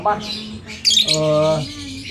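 A caged songbird gives harsh, close squawks and a drawn-out buzzy call, loud and bright, with brief breaks between bursts.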